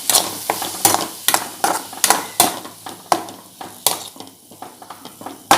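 Onions and garlic cooking in a pan for a bitter gourd side dish, with repeated sharp scraping and stirring clatters of a utensil against the pan over a soft sizzle, close and fairly loud.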